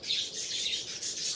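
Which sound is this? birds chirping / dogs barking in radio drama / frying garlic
birds chirping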